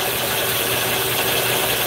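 A fishing reel loaded with braided line under heavy drag spools up to 5,000 yards, giving a steady, dense mechanical whir with a faint ratcheting rattle that runs continuously and close throughout.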